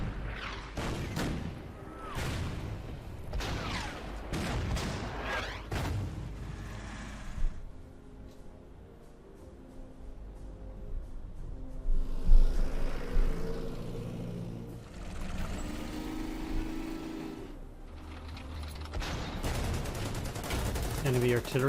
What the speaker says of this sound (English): Enemy artillery seems to be as relentless as ever.